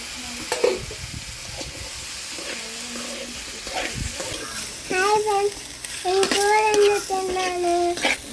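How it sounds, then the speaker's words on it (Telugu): Mushrooms fry with onion and ginger paste in a pan for a village-style mushroom curry, giving a steady sizzle and occasional stirring scrapes, close by, with a voice talking over the frying in the second half. "కాస్త వేగిన తర్వాత మనం శుభ్రం చేసుకునే పుట్టగొడుగులు వేసి ఉడికించుకుంటున్నాము."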